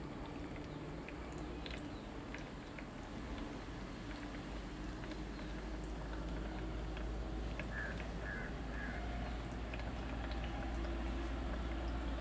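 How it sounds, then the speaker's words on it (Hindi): Water poured from above onto tilled farm soil as artificial rain, a steady low hiss and patter running continuously and fairly quietly, slightly building toward the end. "हम इसमें जो है एक कृत्रिम बरसात करके हम उसको दिखाना चाहते हैं"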